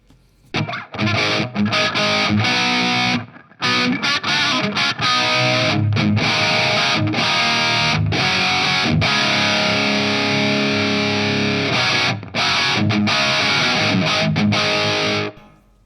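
Electric guitar through a reverb effect, strummed and picked with a full distorted, washy tone, loud and continuous with a few brief gaps between phrases, with no voices.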